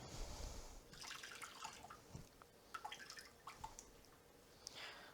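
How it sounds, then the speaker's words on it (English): Liquid drips and trickles as crab meat is squeezed by hand over a container in a kitchen. Faint, intermittent wet patters come close by with no talking. "I'm going to squeeze out the liquid"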